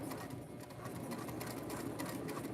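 A sewing machine runs in a continuous close whir, quiet and steady throughout.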